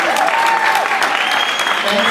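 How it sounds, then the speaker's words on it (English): Crowd at a startup weekend event applauding, a brief, loud burst of dense clapping with whoops or voices mixed in. "first of all, round of applause for completing the most of the weekend"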